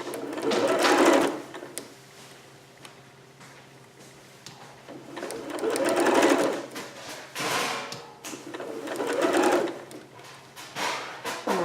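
Sewing machine stitching a shoulder strap for a Vogue 8280 garment, running in three separate bursts of fast, steady whirring, close and fairly loud, with quieter gaps between them and no talk.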